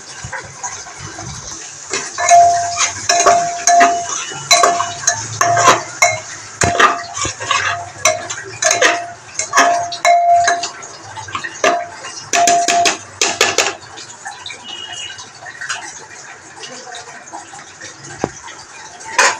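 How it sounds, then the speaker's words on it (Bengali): Cabbage goes into lentils frying in a pressure cooker pot: a sustained sizzle runs throughout, broken by repeated metal clinks and scrapes of a utensil against the pot, fairly close and steady. "এখানে বাঁধাকপিটাকে দিয়ে দিলাম।"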